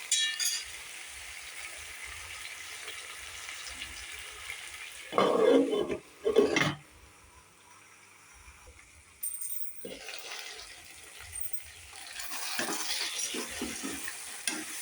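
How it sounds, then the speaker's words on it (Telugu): Vegetable pieces for a colourful vegetable rice sizzle and get stirred in a pan, with louder bursts of frying and scraping in the middle and a steadier hiss toward the end. "ఇవన్నీ బాగా ఫ్రై అవ్వాలి."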